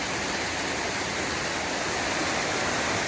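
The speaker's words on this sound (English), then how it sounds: "Little Missouri River and the waterfalls, so they call it Little Mo Falls." Little Mo Falls, a waterfall on the Little Missouri River, pours with a loud, steady broadband rush that fills the whole stretch without a break.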